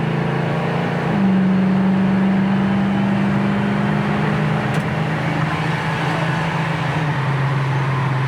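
A 1968 Ford Mustang's 289 V8 drones steadily while cruising, with a low, even hum and road noise that barely changes pitch throughout.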